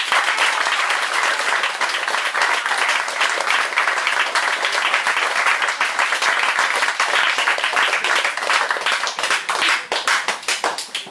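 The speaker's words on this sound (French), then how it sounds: "Merci pour vos applaudissements" Theatre audience applauding at the end of a stage play, a loud, dense wall of clapping sustained for about eleven seconds, with individual claps growing more distinct near the end.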